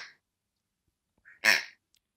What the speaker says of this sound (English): The duck by the oboe